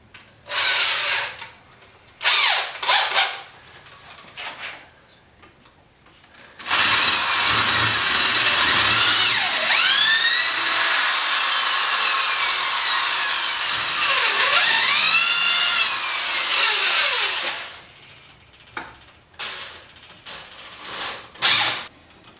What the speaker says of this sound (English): We don't want the lag bolt to screw into this part, so we have to countersink that.